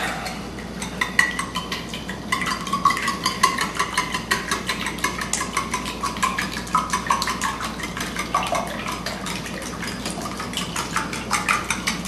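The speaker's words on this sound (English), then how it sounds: "now we got to beat the eggs" Eggs are beaten in a bowl for biscotti (mandel bread) dough, producing a continuous fast clatter of utensil against the bowl with a wet, whisking texture, steady and close throughout without speech.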